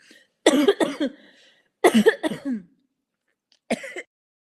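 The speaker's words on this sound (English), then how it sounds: "It's not every day you have your moderator going to a coughing fit." Three bursts of harsh coughing close to the microphone, separated by short silences, with no other sound around them.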